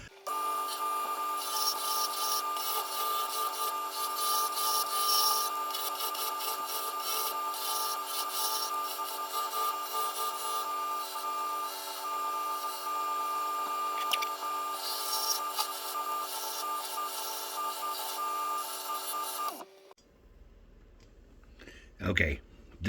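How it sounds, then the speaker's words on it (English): A mango wood piece spinning on a lathe is burnished, giving a steady, loud rubbing whir with a tonal hum for about twenty seconds before the lathe stops and the clip goes quieter. "did a little burnish action there to see what kind of pretty we're gonna have with that"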